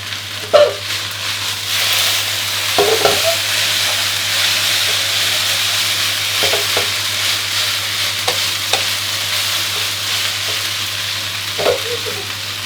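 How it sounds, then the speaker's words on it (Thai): Fresh yakisoba noodles stir-fried over high heat in a pan, a steady loud sizzle running throughout with occasional scraping clatters of the utensil, no voices. "ผัดให้เส้นเริ่มกลับมาร้อนก่อนครับ"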